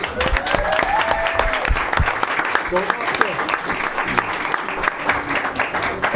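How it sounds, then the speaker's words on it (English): Applause fills a school board meeting room for a group of students, steady clapping from a sizable audience with some voices and cheers mixed in, sustained for several seconds. "Let's give another round of applause to the Bobcats."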